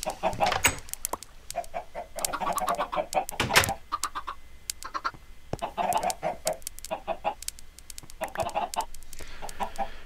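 Video-game chickens cluck repeatedly in short clipped bursts, several birds overlapping in an irregular rhythm, close and fairly loud against a quiet background.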